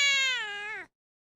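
An angry cat lets out a single loud, drawn-out meow close by that holds steady and then cuts off sharply, leaving silence.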